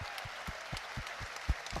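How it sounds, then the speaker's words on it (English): Falkirk fans in a football stadium applaud a player leaving the field, distant rhythmic clapping in a steady slow beat, brief and fairly faint. "Gets a standing ovation actually, the crowd all on their feet."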